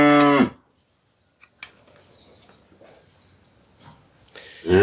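A cow lows once or twice on a small farm where cows are fed hydroponic fodder; a close moo at the start, then quiet farmyard background, and another loud call rising at the end.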